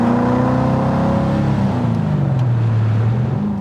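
A Datsun 240Z Z-Beast restomod drives along in traffic, its engine holding a steady, loud, close drone with slow pitch shifts as it eases off and settles.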